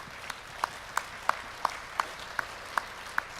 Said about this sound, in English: we'd like to give a big round of applause to Mr. António Guterres